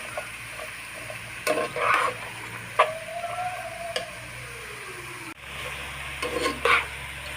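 Bottle gourd fries in a pan with a quiet, steady sizzle, punctuated by several light clicks and scrapes of stirring.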